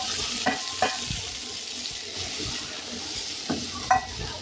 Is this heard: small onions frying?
yes